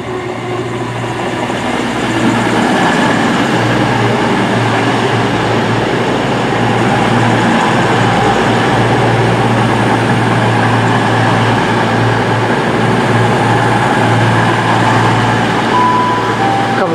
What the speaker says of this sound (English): Arriving into platform 3 of Newton Abbot now is a class 221 cross-country Voyager service from Plymouth to Birmingham New Street.